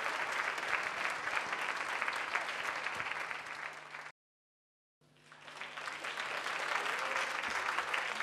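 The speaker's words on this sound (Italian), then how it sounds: "un applausissimo" Audience applause in the Teatro 7 theatre in Turin during a televised concert show, dense steady clapping that cuts out abruptly midway, then swells back up to full strength.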